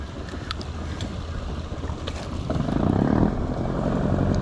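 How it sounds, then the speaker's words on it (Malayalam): A boat approaches on a river where wallago attu are being fished, its low engine rumble swelling toward the end beneath wind noise on the microphone, with no talking. "അവിടെ നിന്ന് ഒരു ബോട്ട് വരുന്നുണ്ട് കേട്ടോ."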